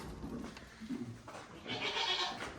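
Several goats bleat in a barn-like setting, a couple of rough calls early followed by a louder, sustained bleat near the end, with no talking.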